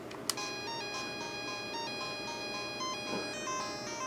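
Plants vs. Zombies game audio played on a Game Prince RS-1 clone console: a quiet, tinkly electronic melody of steady bright beeping tones, with a single sharp click near the start and no talk.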